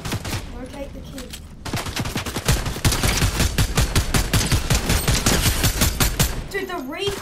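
Fortnite gunfire: rapid, loud, sustained bursts of shots in a steady rattling stream with a few brief pauses, and a voice speaking at times.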